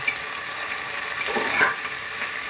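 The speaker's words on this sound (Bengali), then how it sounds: "একটু নাড়াচাড়া করছি" Green peas frying and being stirred in a pan for navaratna pulao, a steady close sizzle with soft scraping of the spoon, alone without talk.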